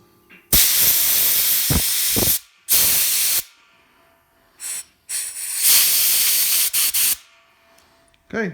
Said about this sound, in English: And then hit it with a bit of compressed air.